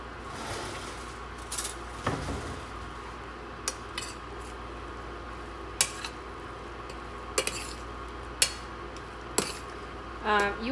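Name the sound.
stirring chana dal and coconut in a pan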